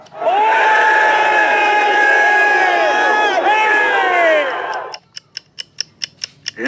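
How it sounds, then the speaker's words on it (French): A crowd cheering and acclaiming as a sound effect on a French Mr. Men Little Miss story tape: a loud, sustained wall of shouting voices for about five seconds, then a quick series of ratcheting mechanical clicks. "La foule l'acclama."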